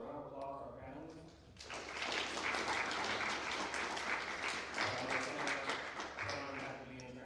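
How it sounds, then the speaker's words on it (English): An audience at an entrepreneurial ecosystem panel bursts into loud, dense applause for the panelists, following a brief bit of talk. "Can you give a round of applause for our panelists?"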